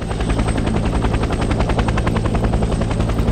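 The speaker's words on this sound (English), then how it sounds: "we're gonna try and move this one to this Huey helicopter" Huey helicopter in the video game Vietnam '65, its rotor thudding in a fast steady pulse with a loud engine drone, close and continuous with no break.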